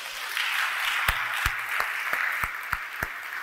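A church congregation at a Sunday service applauds as a crowd, with a continuous patter of clapping and several sharp, louder claps landing in a rough rhythm. The sound is moderately close, and there is no speech.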